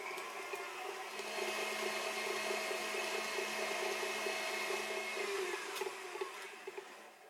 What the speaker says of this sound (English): put the butter in our mixer with a paddle beater and beat this up until it's just fluffy